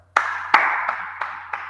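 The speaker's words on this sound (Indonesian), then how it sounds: "tepuk tangan untuk kita semua" A small group claps hands in appreciation at a classroom session, five sharp, separate claps spaced evenly apart with a short ring after each, close and clear with no talking.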